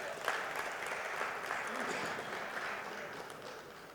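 Audience applause for mentors at a civil-services (UPSC) community gathering, a steady sustained roar of many hands clapping at moderate level throughout, with no breaks.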